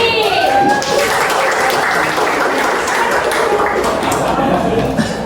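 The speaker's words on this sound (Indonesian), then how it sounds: "Tepuk tangan untuk Meli." A classroom audience at an Indonesian university claps and cheers loudly and steadily, a dense wash of applause that carries on through the whole stretch with voices mixed in.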